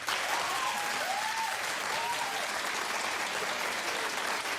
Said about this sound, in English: All right, clap if you want Baby North.